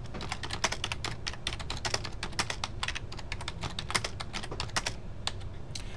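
Rapid, irregular clicking of computer keys being typed, steady and close, with no voices.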